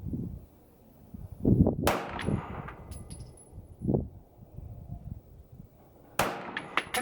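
A CZ Shadow 2 pistol fired on a shooting range: a couple of sharp, separated reports, each with a metallic clang, fairly faint and set against quiet outdoor background noise.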